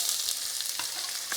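Chopped onion and cumin seeds frying in sunflower oil, giving a steady, close hiss with soft crackles and a few brief stirring knocks, no voices.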